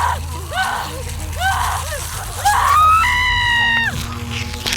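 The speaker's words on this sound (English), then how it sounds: "She let out more and more choked screams as the tension built up in the midsection." A woman lets out choked, strained screams in a horror audio drama, several short gasping cries building into a louder sustained wail over a low ominous backing drone.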